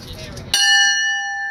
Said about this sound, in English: That's the bell on the centennial locomotive.